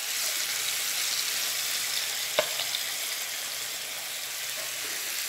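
Marinated chicken pieces sizzle steadily in a large frying pan, a dense continuous hiss close up, with one sharp tap partway through and no talking.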